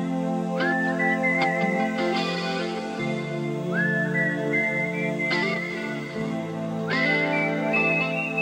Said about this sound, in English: Ooh, I love the whistle.